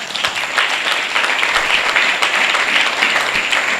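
A church congregation claps and cheers loudly for the Lord, a sustained burst of applause lasting several seconds with steady intensity.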